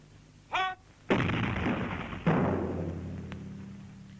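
A WW2-era tank gun fires at 5-inch armour plate 350 yards away, with two heavy, close booms that ring out and decay slowly, preceded by a brief whining burst.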